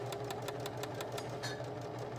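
A home sewing machine runs steadily, stitching a straight seam all the way to the fabric edge, its needle clattering in a fast even rhythm at close range with a constant motor hum.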